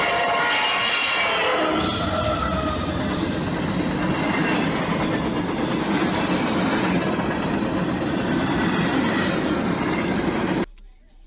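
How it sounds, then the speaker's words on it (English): CSX coal train led by a rebuilt SD70 Mac locomotive rolling past, a loud sustained roar of wheels and cars with rhythmic clacking and brief squeals, fading abruptly at the end; no talking. "This next train is a really rare coal train heading for loads in Newell, PA, with a rebuilt SD70 Mac Linden."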